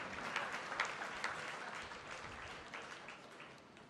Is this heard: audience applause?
yes